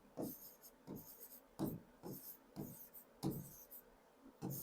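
Chalk or pen strokes during a Hindi-language horticulture class, a series of short scratchy bursts in an irregular rhythm, close and fairly loud with no talk over them.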